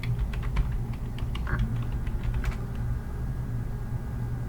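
Rapid keystrokes on a computer keyboard as a web address is typed, a quick run of close, crisp clicks over a low steady background hum, with no speech.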